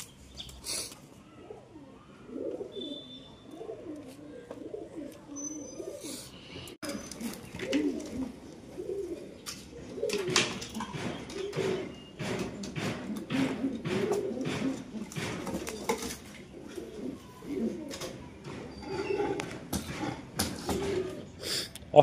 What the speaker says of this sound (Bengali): অসাধারণ একটি ম্যাটাজ কবুতর।